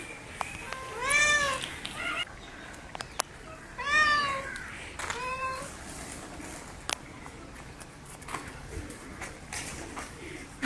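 Cats sitting outdoors meowing, three distinct drawn-out meows spaced a few seconds apart, fairly close, over light outdoor background noise with a few clicks.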